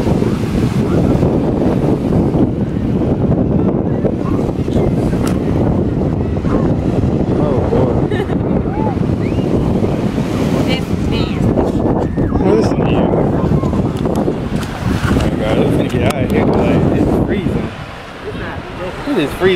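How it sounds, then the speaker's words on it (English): Strong wind blasts across a microphone on a beach by the ocean in Destin, Florida, with surf and waves mixed into a steady, loud roar for the whole stretch. "It's freezing, the wind is blowing,"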